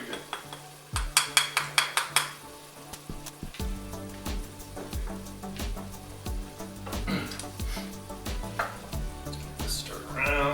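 Spoon stirring red beans in a pot, a string of sharp clinks against the pot followed by wet, bubbling scraping and soft knocks, close and moderately quiet.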